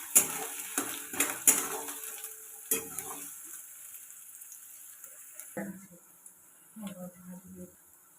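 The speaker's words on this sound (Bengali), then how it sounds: "এবার দিয়ে দিব পেঁয়াজ কুচি।" Chopped onion frying in a pan with garlic, made up of scraping stirs and clinks of a utensil against metal, then a softer sizzle, with a person talking over it.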